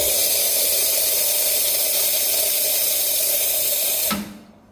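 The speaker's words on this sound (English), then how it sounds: "So it's a very powerful steam tip." An HX lever espresso machine's steam wand purges with a powerful, steady, close hiss that runs for about four seconds, then cuts off abruptly.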